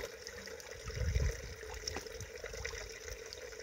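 Water running from a healing holy spring at a monastery, a steady close trickle and splash with a brief louder gush, no talking.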